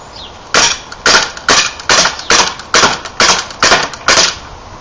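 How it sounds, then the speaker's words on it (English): Nine sharp, evenly spaced pops, each followed by a short hiss, fired from a Firepower CO2 Thunder non-blowback airsoft M9 pistol, loud and close with no talk. "First I'll get a shot of me actually shooting it"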